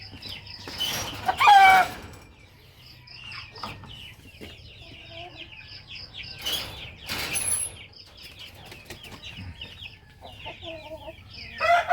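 A small flock of five hens on a grassy range clucking and calling in short bursts, with a rooster-like call and chirps in the background, a few loud close clucks standing out over the quiet outdoor scene.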